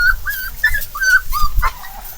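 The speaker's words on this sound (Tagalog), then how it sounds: "Yung mga aso natin nakapasok na naman." Dogs on a farm whimper and yip in short, high, whining bursts, close and repeated over low rumbling background noise.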